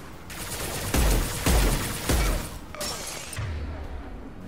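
Incendiary-round gunfire from Mass Effect 2 Legendary Edition: three heavy booming bursts about half a second apart, dense and loud, followed by a lower rumbling tail with some game ambience.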